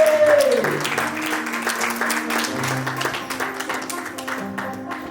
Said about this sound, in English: Big round of applause and welcome to the stage, Dr. Shellie Hipsky.